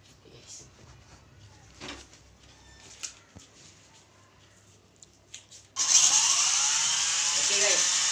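A 4-channel 2.4GHz RC helicopter spins up its rotor suddenly after quiet handling noises, turning into a loud, steady high whir that fills the rest of the clip.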